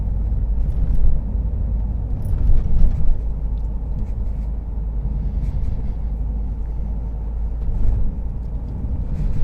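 A car cruises at about 40 mph along a national speed limit road through villages, with steady low engine and road rumble that swells slightly at moments, continuous and close throughout.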